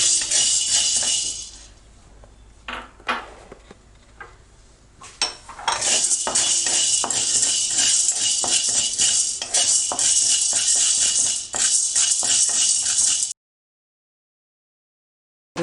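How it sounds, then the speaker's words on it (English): Black peppercorns roast in a dry pan for homemade sambar powder, rattling and clinking loudly as they are stirred and tossed, with pauses before the sound stops abruptly. "Next goes the black pepper."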